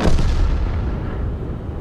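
Artillery fire in the tank video game World of Tanks, a single heavy boom that opens loud and rolls into a long, dense rumble lasting the whole moment.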